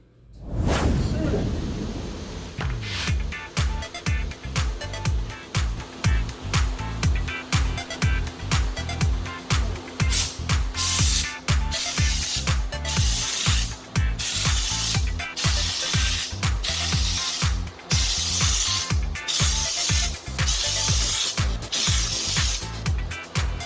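A spray gun lays Shield bedliner onto a 1984 El Camino, giving a loud, close, continuous hissing spray for over twenty seconds that pulses in steady rhythmic surges as the gun passes back and forth.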